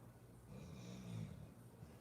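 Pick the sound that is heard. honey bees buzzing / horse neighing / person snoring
person snoring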